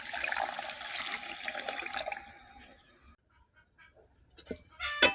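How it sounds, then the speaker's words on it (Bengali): Water pours into a pan of frying potatoes and bitter gourd, making a steady splashing rush for about three seconds, followed by near silence and a few light clatters. "এখন আমি এর মধ্যে জল অ্যাড করে দেবো পরিমাণ মতো।"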